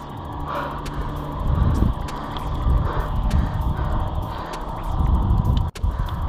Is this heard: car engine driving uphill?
yes